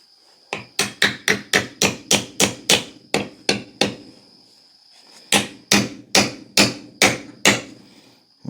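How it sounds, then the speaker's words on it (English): A hammer strikes repeatedly, driving a wooden handle into the head of a Collins axe: two quick runs of sharp, ringing blows in steady rhythm, close and loud, separated by a short pause. "Move to the bigger hammers to drive it in deeper."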